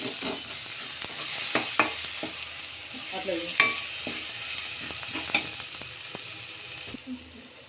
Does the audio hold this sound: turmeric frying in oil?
yes